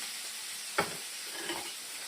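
Garlic menemen with tomato is stirred in a frying pan, a faint soft sizzle broken by one sharp scrape of the utensil and a lighter one after it.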